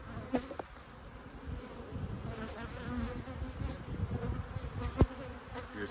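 Honey bees buzz around an open beehive during a brood frame inspection, a low continuous hum close by, with occasional sharper knocks and clicks from handling the hive.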